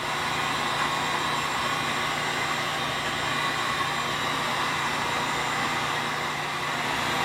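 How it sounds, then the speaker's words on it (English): A heat gun set to 1100 degrees Fahrenheit blows hot air to soften the glue under old cabinet laminate, giving a steady, loud, close whooshing hiss that never varies, with no talking. "I'm running the heat gun at 1100 degrees Fahrenheit"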